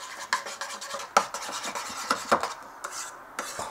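Seasoned homemade hamburger meat being mixed in a bowl, heard as soft squelching and rubbing with a few sharp clinks of a utensil against the bowl, close up and with no talk.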